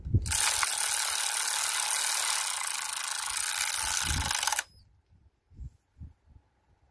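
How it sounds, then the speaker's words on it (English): A ratchet tightens bolts on a Peugeot XD2 diesel engine block: one long, loud, close run of rapid clicking that stops abruptly, then a few soft knocks and handling taps. "So ek ry nou al die boutjies vas."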